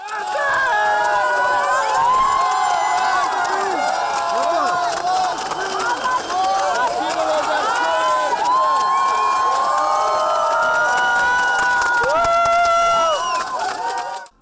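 A large crowd of hockey fans cheers, shouts and claps in an airport hall in Karaganda, welcoming home the Petrov Cup-winning Saryarka team; a dense, loud, continuous roar of voices and applause fills the space.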